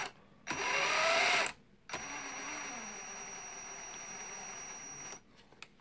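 The electric motor of a Traxxas TRX-4 RC truck whines up on throttle: a short burst, a brief pause, then a longer steady run that cuts off, heard up close.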